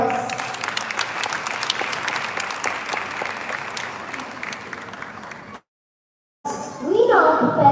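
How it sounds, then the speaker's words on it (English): An audience applauds students at a school performance, a steady round of clapping that stops abruptly, with a gap of silence before a brighter sound returns. "They truly deserve a big round of applause."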